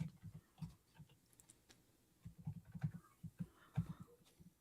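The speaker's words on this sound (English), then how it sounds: "Sorry, suck at typing." Soft, quick clicks of typing on a computer keyboard patter unevenly in short bursts, faint and close, with no voices over them.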